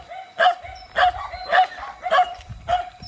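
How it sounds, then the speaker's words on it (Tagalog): A dog barks sharply and aggressively, five evenly spaced barks, fairly close, against a quiet background. "Galit na galit yung aso."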